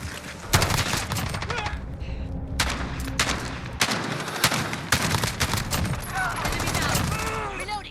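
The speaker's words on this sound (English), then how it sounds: "a machine gun like this, because you're able to keep sustained automatic fire" MG36 machine gun in Call of Duty Modern Warfare firing long automatic bursts, loud and close with rapid repeated reports and short gaps, under a voice talking over the gunfire.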